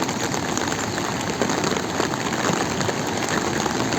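Steady rain pours down in Manali in a dense, even hiss, close and loud, with no voices.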